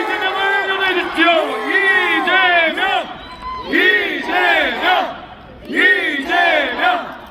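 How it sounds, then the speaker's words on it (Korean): At an outdoor presidential campaign rally in Gumi, a large crowd chants the candidate's name, Lee Jae-myung. Loud, rhythmic shouted bursts repeat in waves, with brief pauses between each round. "이재명을 연호해주십시오."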